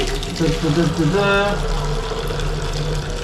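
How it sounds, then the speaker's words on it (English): Tap water running into half a cut Sprite bottle beside an Indian squat toilet, a loud continuous splashing gush with a rising gurgle as the bottle fills, and a voice talking briefly over it. "you put it under the tap like this. You fill it up like this."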